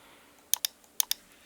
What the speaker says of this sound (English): pressing Ctrl C to copy